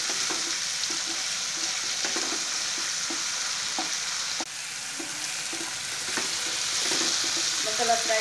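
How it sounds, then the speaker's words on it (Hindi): Ginger garlic paste fries in a pan for chana paneer, a continuous hiss and sizzle with occasional taps and scrapes of a spoon stirring, close and alone. "अदरक लहसुन का पेस्ट ऐड कर लिया और भी अच्छी तरह से फ्राई कर लूँगी।"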